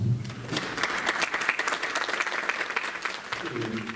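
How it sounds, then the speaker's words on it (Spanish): Audience applause at a law seminar hosted by a bar association, welcoming a university lecturer and defense attorney to the stage; dense, steady clapping from a seated crowd fills the whole stretch, with a voice briefly audible underneath at the start and end. "Lo recibimos con un fuerte aplauso."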